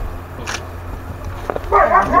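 Sled dogs at a mushing race bark and yip in scattered bursts, with one sharp yelp early and a louder cluster of barks near the end, all set against a low background murmur of the outdoor event.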